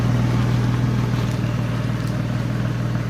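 Dodge Stealth 3000GT engine idling steadily with a low, constant hum, slightly rough at idle in an intake with missing bolts, close and continuous with no talk.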